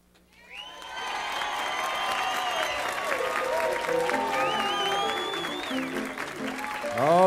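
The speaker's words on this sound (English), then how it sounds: "Big applause this time to bring it back in, all right?" Audience applause at a live radio Christmas special broadcast from a stage, a dense steady wash of clapping and some cheering that swells in after a second and holds loud, with music-like tones and voices faintly mixed in.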